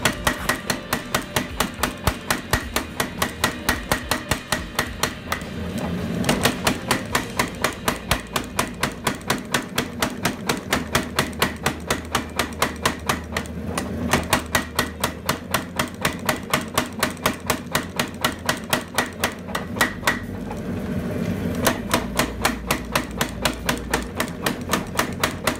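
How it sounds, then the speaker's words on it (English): Rapid, steady pounding of a power hammer striking hot steel while drawing out a knife tang, a dense mechanical rhythm of heavy blows that runs continuously with only brief shifts in pace. "Then I'll head over to the power hammer and draw that out"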